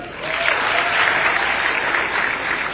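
Audience applause at a Kenyan county government event, a steady crowd clapping that fills the whole moment, loud and continuous without a break.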